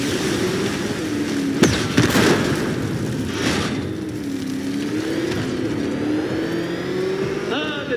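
A car engine revs in Batman: Arkham Knight, a steady droning note that rises and falls over a wash of game noise, with a sharp crack in the middle and no pause across eight seconds.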